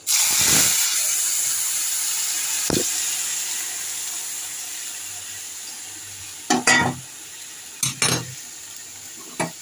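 Chopped plantain, fig, bitter gourd, eggplant and potato tip into a hot pan with a loud sizzling rush that slowly fades into a low steady fry. Several sharp scrapes and clatters of the pan follow.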